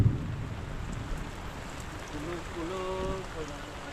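Steady rain pours down in a rural calamansi orchard during an afternoon storm, with a low rumble of thunder underneath, while someone talks over it.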